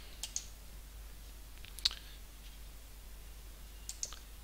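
A few sharp computer mouse clicks while saving a course form in an admin program, quiet and spaced out, one single click, one stronger click near the middle and a quick pair at the end, with no talking.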